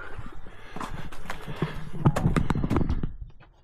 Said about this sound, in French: Elle descend de la montagne à cheval.